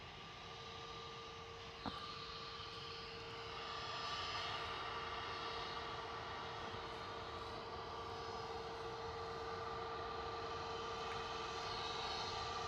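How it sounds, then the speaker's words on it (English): An EasyJet Airbus A320neo departs Manchester Airport for Zurich, its steady engine roar and high whine distant and fairly faint, holding level and swelling slightly as it climbs. "EasyJet 2193 to Zurich there. A320 Neo"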